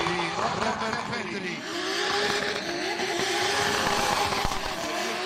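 A 2JZ-powered drift car making around 900 horsepower revs hard with rising and falling engine tones, and tires squeal continuously alongside it; the sound stays loud and busy throughout, with some talk mixed in.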